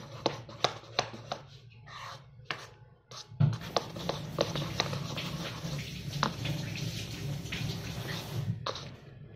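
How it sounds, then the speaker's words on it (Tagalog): After a few taps and clicks, water pours steadily from a tap with a close, rushing splash that continues to the end. "Dagdagan pa natin ng tubig."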